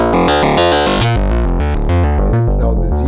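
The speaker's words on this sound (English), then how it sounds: "it's now the sine wave. So this is without saturation" Radikal Delta CEP A semi-modular synthesizer playing a clean sine wave without saturation, a loud sequence of stepping notes in a rhythmic pattern, heard alone with no talk.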